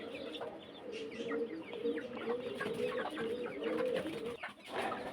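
Village chickens and chicks cluck and murmur close by in a steady chorus while eating grass, with soft cooing-like bird calls blending in and no talking.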